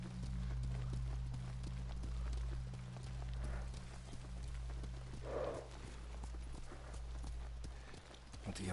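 Horse hoofbeats in the video game Ghost of Tsushima, a continuous rapid clip-clop of galloping over a low rumbling ambience, steady and close throughout.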